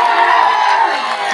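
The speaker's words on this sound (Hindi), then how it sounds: "भाई गिरिधर बाबू के लिए जरा जोर से ताली बजाओ एक बार।" A large crowd at a BJP election campaign rally in Gajapati roars with dense, continuous clapping and cheering, loud and steady throughout without pause.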